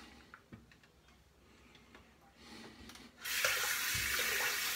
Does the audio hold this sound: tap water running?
yes